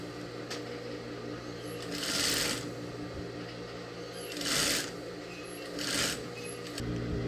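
A sewing machine stitches a blouse seam in three short whirring bursts, close and distinct, separated by a quieter mechanical hum and small clicks.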